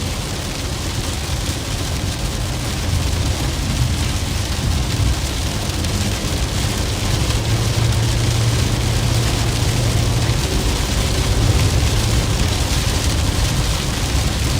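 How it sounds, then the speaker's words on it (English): Heavy rain pounds steadily on a car driving through an Oklahoma storm on wet roads, a loud unbroken hiss with low road rumble beneath and no talking. "we're almost out of this rain"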